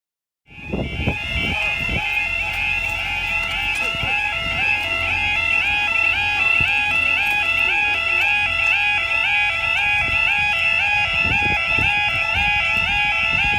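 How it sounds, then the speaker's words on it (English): A faulty level crossing alarm on Lincoln High Street sounds continuously: loud, steady electronic warbling tones that repeat without pause for the whole stretch, with faint rumbling underneath. "That alarm's on comms again."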